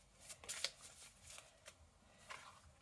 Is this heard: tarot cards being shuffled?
yes